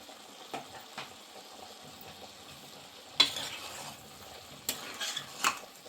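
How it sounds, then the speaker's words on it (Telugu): Chopped tomatoes being stirred into a mutton capsicum curry in a pan: a faint, steady sizzle broken by a few sharper scrapes and taps of the spoon, close and quiet. "టేస్ట్ కోసం టమాటాలు కూడా వేస్తున్నానండి నేను."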